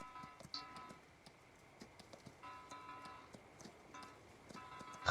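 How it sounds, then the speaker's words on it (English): Horse hooves in Farming Simulator 19 on a dark forest path, a steady clip-clop of soft hoof taps at moderate pace, fairly faint and continuous over a low ambient bed, with no talk. "Horses."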